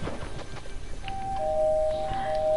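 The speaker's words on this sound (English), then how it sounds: "Gotta ring my doorbell properly" A video-game doorbell chimes in sustained electronic tones partway through, moderately loud over a busy game background with no talking.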